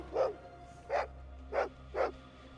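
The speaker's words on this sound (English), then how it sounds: "I hear the dog barking." A dog barks four times in the video game Fallout 2, each bark short and evenly spaced at a moderate distance over a low steady background hum.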